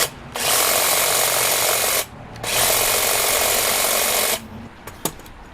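A Makita 40V cordless hedge trimmer's motor buzzes steadily, cuts out briefly, then runs again for a couple of seconds before stopping, with small clicks afterward.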